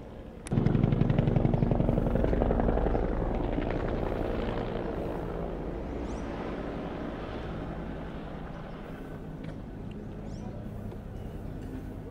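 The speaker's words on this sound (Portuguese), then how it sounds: "Um helicópterozinho da Core, do SAER, que faz parte da Core." A Polícia Civil CORE/SAER police helicopter flies over the Salgueiro neighborhood of São Gonçalo, its rotor thudding in loudly and suddenly, then slowly easing off as a sustained throbbing drone.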